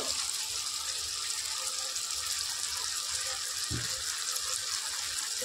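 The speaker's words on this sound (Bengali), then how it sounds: "এবার আমি সর্ষে পোস্ত বাটাটা দিয়ে দেবো। এর মধ্যে অল্প জল দেব।" Water poured into a mustard and poppy seed paste while cooking Bengali bean posto, a steady close hiss of running liquid with a brief soft splash near the end.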